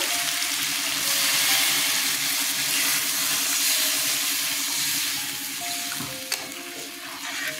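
Marinated lemon chicken sizzling loudly in a pan as a little water goes in: a dense, steady hiss close up, with a brief clatter near the end and no talking.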